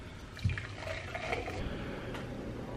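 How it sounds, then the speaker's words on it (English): Butter coffee pours into a coffee mug, a faint close liquid trickle and fill with a small splash near the start, steady and low. "Pour into your favorite coffee mug."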